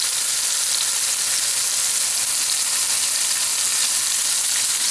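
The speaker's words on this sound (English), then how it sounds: "The beef goes in." Beef for Italian beef searing in a hot pot, a loud, continuous close sizzle and frying hiss that holds steady with no voices.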